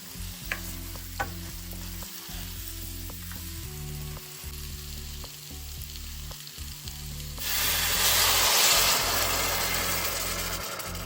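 Loud sizzling of fish frying in a hot pan for spicy fish gravy, with stirring scrapes and clinks, and a low engine-like hum underneath; the sizzle surges near the end.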